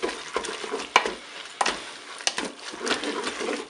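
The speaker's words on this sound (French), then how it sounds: "Je mélange." Spaghetti with tofu, mushrooms, lemon juice and fromage blanc is stirred in a Cookeo pot, giving soft wet scraping and a few sharp utensil knocks in an uneven rhythm, close up and without talk.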